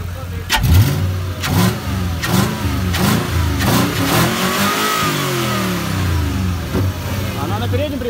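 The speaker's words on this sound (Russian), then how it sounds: "Volvo V8 с мотором от Yamaha" A Volvo fitted with a Yamaha V8 engine revs repeatedly in sharp bursts, pitch rising and falling with each throttle blip, loud and close, with voices faintly underneath.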